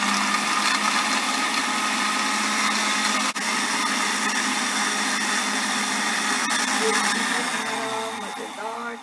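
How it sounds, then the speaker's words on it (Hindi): A blender blending a milkshake whirs loudly and continuously for several seconds with a steady high motor whine, then winds down near the end. "डालें ब्लेंडर में और फिर चंद सेकंड्स के लिए हम ब्लेंडर को चला देंगे।"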